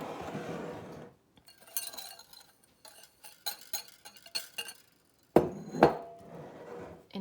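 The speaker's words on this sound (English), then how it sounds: "And now I'm going to whisk the dry ingredients together." Dry ingredients for pumpkin pie whisked in a bowl, a quick series of light metallic clinks and scrapes in short bursts, close and fairly quiet, with a couple of louder knocks near the end.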